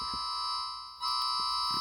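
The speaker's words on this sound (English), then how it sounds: "I honestly like this EAS alarm." An Emergency Alert System alarm tone plays loud and steady, a sustained harsh multi-tone drone that dips briefly and then resumes at full strength, with no voices.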